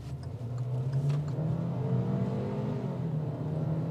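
A Hyundai Accent's 1.4-liter gasoline engine pulls hard at full throttle, a steady loud drone with engine pitch slowly rising as the car accelerates, with no talking.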